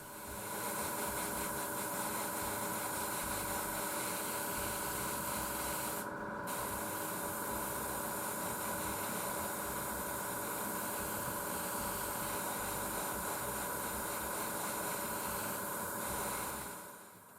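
An airbrush sprays blue paint onto the flaps and fuel tank of a 1/48 Eduard Bf-109 E-7 Tropical model aircraft, giving a steady close hiss that pauses briefly once before carrying on to the end.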